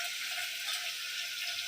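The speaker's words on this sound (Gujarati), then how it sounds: "વઘારાઈ ગયું." Vegetables tempering in hot oil on a home stove, giving a close, loud, steady hiss of sizzling with no pauses and no voices.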